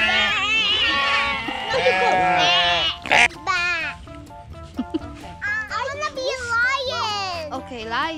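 A voice imitates a sheep, producing wavering bleat-like cries in several bursts, mixed with other children's chatter nearby.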